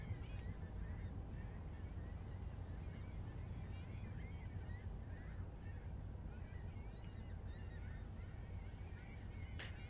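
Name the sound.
seagulls calling at sea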